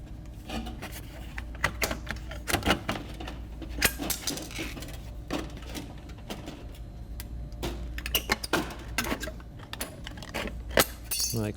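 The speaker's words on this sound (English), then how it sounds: "So I'm going to go through with my snips and cut off this lower triangle and the triangle to the right" Tin snips cut through metal chimney cap flashing in a series of sharp, irregular snips and rasping scrapes, close and moderately loud, with no talking.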